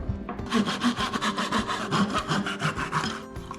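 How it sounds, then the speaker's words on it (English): A steady rhythmic rasping of a drill boring a 3/8-inch perch hole into birdhouse wood, repeated strokes with no talking, close and loud throughout. "Let's drill the 3/8 inch hole for the perch hole."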